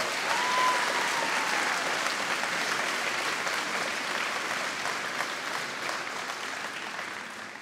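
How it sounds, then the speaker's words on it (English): An audience applauds at a secondary school graduation ceremony, a sustained wash of many hands clapping that holds steady and then fades slightly toward the end. "Can I give a huge round of applause?"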